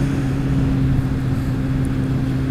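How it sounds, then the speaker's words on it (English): A Kawasaki Z750 motorcycle engine under way on a test ride, a steady loud drone with a strong low hum and wind noise, held evenly without speech. "So today I'm riding my friend's Z750, just doing a short little stint on it."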